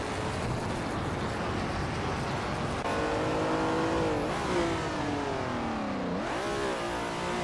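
A 1966 Lola T70 Mark III race car with a Chevrolet engine roars continuously in a racing video game, its pitch climbing and dropping through gear changes, loud and close with no talk.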